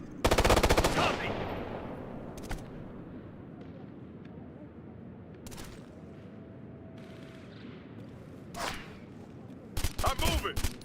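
Assault rifle fire in the tactical shooter game Ghost Recon: a loud, dense burst opens and rings out, then separate sharp bursts and single shots follow at intervals, with a final close volley of rapid shots over steady battle ambience.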